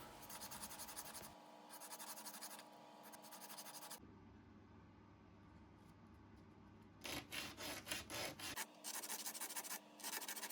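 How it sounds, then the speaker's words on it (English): Small 6mm wooden dowels being shaped by hand into drawer pulls for a bandsaw jewelry box, giving steady close rubbing and rasping strokes that pause briefly midway, then return in quicker, louder scraping bursts. "Here I'm shaping the drawer pulls out of 6mm dowels."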